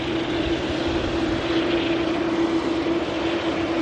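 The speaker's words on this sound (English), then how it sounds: "Do have another Ryanair on approach though" A Ryanair airliner arriving from Madrid on approach to the airport, heard as a steady, sustained engine drone with a constant tonal hum, moderately loud and unbroken.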